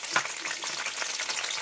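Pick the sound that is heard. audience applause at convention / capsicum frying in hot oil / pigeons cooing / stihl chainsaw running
capsicum frying in hot oil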